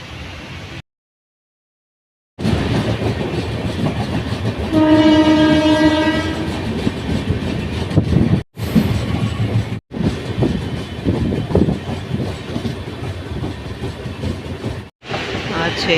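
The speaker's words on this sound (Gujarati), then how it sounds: "આ છે ચેન્નાઈની સિટી ટ્રેન." A Chennai city train passes through a railway station with a heavy rolling rumble and wheel clatter, and a loud horn blast sounds partway through. The sound cuts out briefly a few times.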